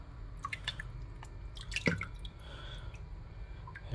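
A Doogee S200 rugged 5G phone, rated IP68, sits submerged in water and gives faint, scattered drips and small wet splashes over a low steady background hiss, with no voices.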